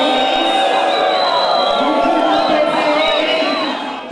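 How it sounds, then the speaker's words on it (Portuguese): A large crowd at a health ceremony in Fortaleza jeers loudly at the interim health minister, a dense sustained wall of voices that fades slightly at the end. "Cada menção ao ministro da Saúde interino, o deputado Ricardo Barros, era acompanhada por vaias"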